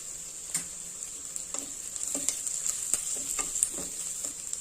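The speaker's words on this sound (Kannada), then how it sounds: "ಈರುಳ್ಳಿ ಸ್ವಲ್ಪ 2 ನಿಮಿಷ ಫ್ರೈ ಆಗಲಿ" Onion frying in a pan with turmeric for a potato stir fry, a steady high sizzle broken by repeated light spatula taps and stirs, fairly quiet and close, no voices.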